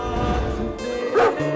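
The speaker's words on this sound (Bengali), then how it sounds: "ওরে বাপরে, কুকুর!" A dog barks and yips in a busy scene, several short sharp calls over a continuous loud background rumble, fairly close.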